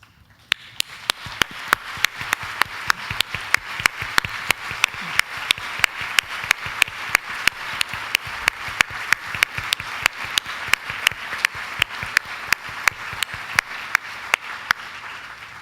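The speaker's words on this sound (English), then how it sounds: "Can I please ask you to stand and receive a round of applause?" An audience at a Women in the World Texas gathering applauds military spouse guests, a long even wash of clapping with sharp, regular near claps standing out, continuing for about fifteen seconds.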